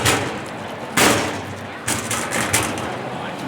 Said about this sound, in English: Banging the bin.